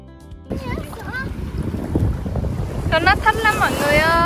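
Seaside wind buffeting the microphone at Nha Trang, with a rumbling boat engine and surf beneath, while people talk excitedly and a voice exclaims over the steady gusty roar.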